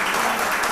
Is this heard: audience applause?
yes